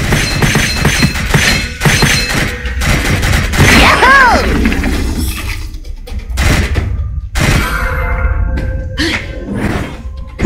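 Loud, rapid gunfire from the shooter game Gunfire Reborn: dense bursts of shots mixed with shattering impacts and thuds, coming in waves with brief gaps between volleys.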